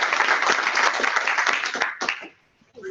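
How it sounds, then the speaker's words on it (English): An audience claps at the close of a Friday afternoon seminar, loud dense applause that tapers off and fades out near the end, leaving a short pause before a voice speaks again. "let's give them one big round of applause"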